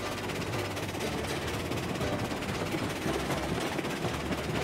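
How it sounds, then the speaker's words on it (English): Steam locomotive working hard up a grade in the train game Railroads Online, a steady, dense rumble with continuous chuffing and rail clatter that stays loud and unbroken throughout. "Let's see what this locomotive can do."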